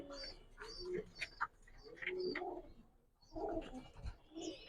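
Pigeons of a large breed coo close by in bursts of soft, throaty rolling calls, with a short quiet gap midway before the cooing resumes.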